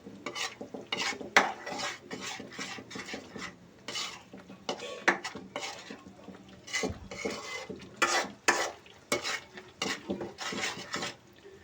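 Spoon stirring turmeric and red chilli powder in hot frying oil for an egg curry, with repeated close scraping strokes against the pan and a faint sizzle underneath, no talking.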